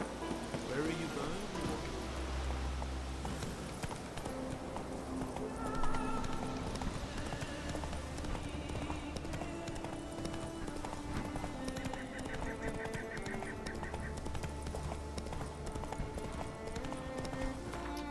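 Roach, a horse in The Witcher 3, trots with steady clip-clop hoofbeats in a game scene, joined by a few brief whinnies, rain and background music, while a voice talks now and then.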